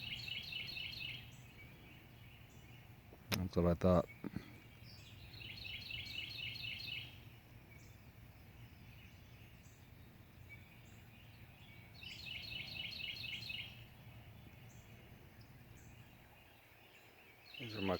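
Birds chirp in repeated bursts of song outdoors, alongside a steady low hum and a brief loud knock, with a few quiet spoken words.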